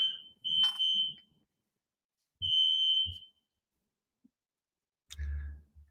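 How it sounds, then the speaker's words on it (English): A fire alarm goes off indoors during a workshop, sounding in loud piercing beeps of uneven length with gaps of silence between them, plus a few soft thumps and a brief low rumble near the end, no speech. "And hopefully the fire alarm stops soon."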